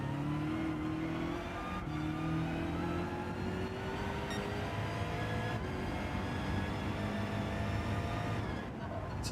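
Race cars in Gran Turismo 7 roar through a Manufacturers Cup round, a loud, continuous engine drone whose pitch climbs steadily as the cars rev and accelerate, with a faint voice under it.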